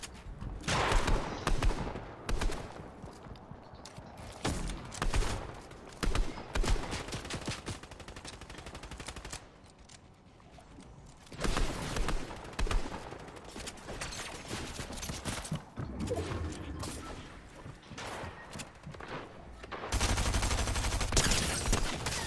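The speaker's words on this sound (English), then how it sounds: "I just got shot from distance" Rapid bursts of gunfire in the battle royale game Fortnite during a competitive FNCS match, loud dense volleys that come and go in clusters over about twenty seconds with a heavy final barrage.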